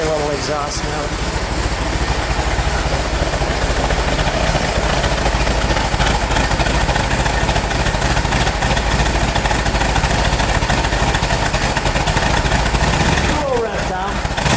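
A 1970 Dodge Challenger R/T convertible's 440 V8 rumbles and revs steadily at close range, a deep continuous exhaust roar with uneven throttle surges, briefly easing off near the end.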